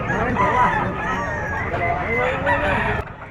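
A full stag rooster crows loudly and close for about three seconds at a dawn gamefowl market in Padre Garcia, Batangas, with people talking faintly in the background.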